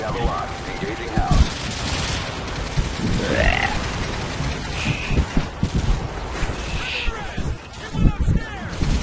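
Rapid video game gunfire bursts in bursts and volleys, fairly loud and close, with brief game effects and a Thai voice talking over the shooting.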